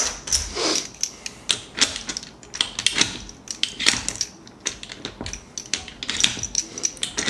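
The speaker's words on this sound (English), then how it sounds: "You're still using your hand to turn the wheel, but you're using the bullet also to push down and load the ammo in." An X91 hand-wheel ammunition loader being turned by hand as rounds are pressed in, giving a close run of irregular metallic clicks, clacks and ratcheting snaps.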